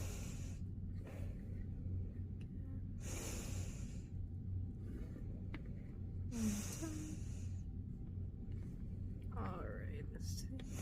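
A patient breathes slowly and deeply during a lung check while lying on an exam bed. About three soft, breathy inhales and exhales can be heard against a low, steady hum, with quiet talk now and then.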